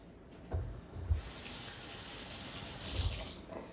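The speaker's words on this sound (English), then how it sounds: "Rinsing my fingies again." Fingers are rinsed under a running kitchen tap while cooking. The water hisses and splashes at close range, with a few low bumps as the hands move through the stream.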